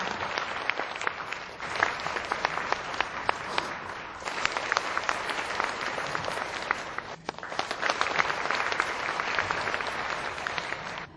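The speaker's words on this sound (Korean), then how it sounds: "환영의 박수" Sustained applause from an audience welcoming participants at a Korean women's committee policy meeting of the national unification advisory council, dense and steady clapping for about eleven seconds with a brief dip midway.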